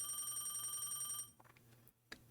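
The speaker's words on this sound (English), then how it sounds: "Still, the ringing continued." In the Dreambound demo game, a telephone rings with a bright, repeating electronic trill, then breaks off into quieter clicks and a final short burst.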